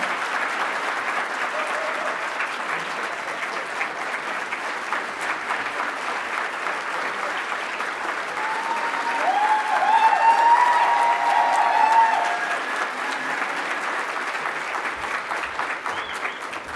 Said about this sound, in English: please join me in another round of applause for Congresswoman Mary Peltola